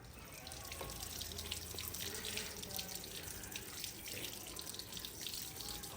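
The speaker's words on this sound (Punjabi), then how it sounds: "ਹੁਣ ਜੀ ਧੋਵਾਂਗੇ ਟਿੰਡੀਆਂ" Tap water runs steadily into a sink while tinda gourds are washed, a continuous close splashing flow with faint drips and no talk over it.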